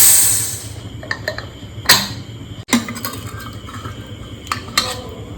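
Metal lid of a cooking pot holding goat leg paya being lifted open, with clinks and clatter of metal on metal, a sharp knock near two seconds and a few lighter taps afterward over low kitchen hum.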